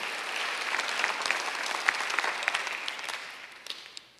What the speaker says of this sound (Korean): 박수 하나 들으시기 바랍니다